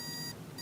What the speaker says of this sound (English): It will make a buzzing sound, it will make beep beep beep